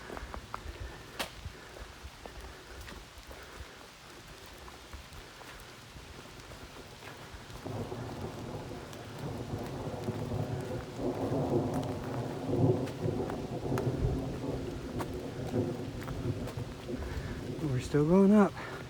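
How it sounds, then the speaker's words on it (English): A thunderstorm rolls over a mountain trail on the Appalachian Trail near Erwin, Tennessee: low thunder rumbles swell in and out under steady rain on surfaces, with a faint voice briefly heard. "we're getting the thunder, a little bit of lightning."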